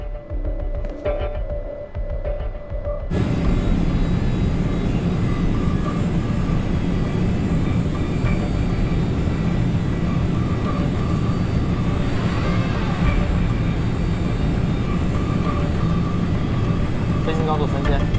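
An airliner's engines roar in a loud, steady cabin drone during an ILS approach to landing in low visibility, starting after a quieter moment with a voice, and continuing without a break.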